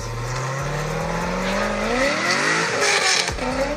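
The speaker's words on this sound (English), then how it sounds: "I love the sound of American V8s" A 6-liter LS2 V8 car engine revs hard, its pitch climbing steadily and then dropping, with a brief tire squeal near the end. Close and loud, no speech.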